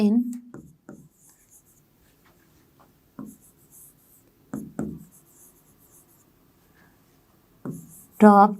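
Marker or chalk strokes on a board during a Class 6 maths lesson on ratio and proportion come in short, scratchy bursts separated by quiet pauses, with a teacher's voice speaking intermittently between and over the writing.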